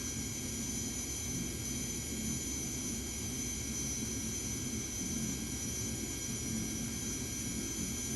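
Jet engines of a Dassault Falcon 7X spool up in the FSX flight simulator, making a steady, loud roar with a constant high whine that lasts the whole stretch, with no speech.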